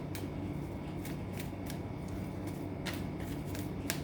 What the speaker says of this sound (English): let me just shuffle a card for you